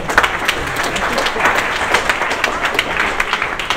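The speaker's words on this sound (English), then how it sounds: "So a round of applause for him." Lively applause from an audience at a junior hackathon show-and-tell, a busy, continuous patter of many hands clapping at fairly close range throughout.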